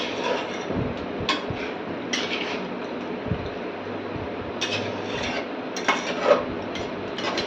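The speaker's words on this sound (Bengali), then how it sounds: "কিছুক্ষণ আবার ঘিটা দেওয়ার পর নেড়ে নিতে হবে।" A spoon stirs and scrapes a vegetarian green jackfruit curry made with Gobindobhog rice in a pan after ghee is added. The scraping and rubbing strokes come close and repeat steadily, with occasional light metallic knocks.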